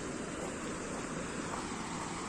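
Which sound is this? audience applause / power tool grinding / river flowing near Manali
river flowing near Manali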